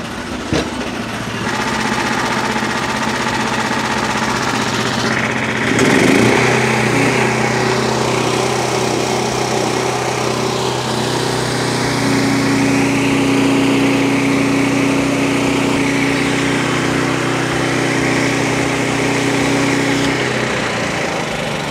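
A Frontier OS23 portable sawmill driven by a small engine cuts boards from an old forgotten log. The engine drones steadily and loudly throughout, and its pitch and load shift as the blade bites into the wood, with no one talking.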